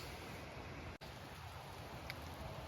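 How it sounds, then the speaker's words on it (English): Rain falls on a forest trail with trees overhead, a faint, even patter with no one speaking. "There, the expected rain is here."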